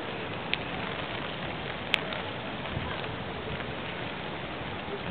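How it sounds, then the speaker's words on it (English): Heavy tropical storm rain pours down in a steady, dense hiss with no letup, broken only by a couple of faint clicks, during Tropical Storm Nicole. "And the rains are coming down again."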